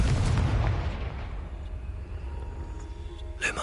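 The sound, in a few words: explosion from the Confringo spell in Hogwarts Legacy video game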